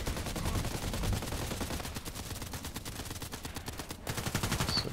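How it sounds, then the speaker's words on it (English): Sniper rifles and other weapons fire in a shooter video game as rapid, evenly spaced shots in a dense, continuous volley, loud and close, with a brief lull before the firing resumes. "So it seems that they're shooting to the left"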